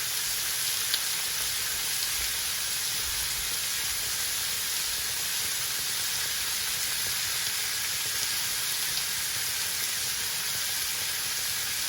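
Greasy jerk pork on a grill, sizzling in a steady, dense hiss with faint scattered pops throughout, close and continuous with no voices.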